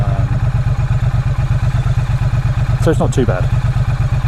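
A 2017 Triumph Street Cup motorcycle engine idles close by with a steady, rapid low thumping pulse, while someone talks over it throughout.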